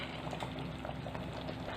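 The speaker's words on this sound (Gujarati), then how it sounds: "તો મિત્રો આપણે સરસ શાકને ઉકાળી લીધેલું છે." Green chickpea shak, a vegetable curry, bubbles steadily in a pot, a dense, even simmering roar with small pops throughout, continuous and fairly close.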